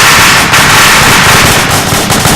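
A deployed weapon fires in a military video game, producing a loud, dense burst of crackling gunshots that fills the whole moment.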